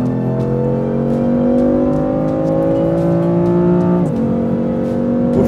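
A 2014 BMW M4's six-cylinder engine revs steadily, its droning harmonics climbing through a long pull before a brief dip and recovery, loud and close with no talk.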